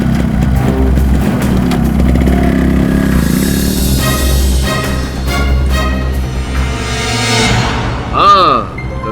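Motorcycle engine idling then revving as the bike pulls away, loud and continuous with voices talking over it and a rising whine near the end.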